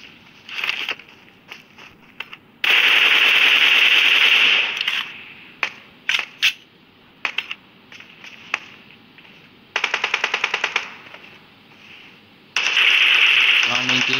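Bursts of automatic gunfire in PUBG, several loud rapid volleys separated by shorter single shots and gaps, with someone commentating over the action.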